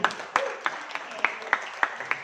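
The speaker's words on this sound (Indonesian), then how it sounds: "tepuk tangan buat Ibu Umi." Sparse applause from a small audience at a marketing plan presentation, a few distinct claps spaced irregularly across the moment, fairly quiet with a light background murmur.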